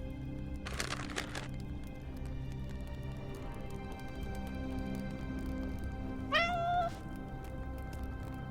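A cat meows in a video game: a brief, clear, rising meow near the end, with a short burst of clattering earlier, both over a steady soft ambient hum.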